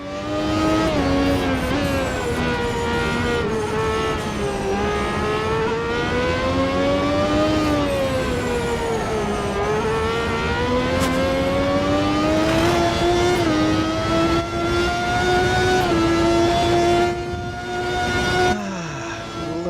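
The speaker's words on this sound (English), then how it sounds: "Lovely sound of proper real Formula One." A Formula One car engine in a sim racing game screams at high revs, pitch sweeping up and down through gear changes and corners, loud and continuous with brief drops near the end.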